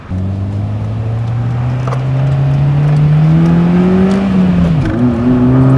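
A Honda Fit GD3 with a short shifter driving briskly along a back road, its engine droning steadily inside the cabin and rising slowly in pitch before a brief shift dip, loud and continuous with no talk.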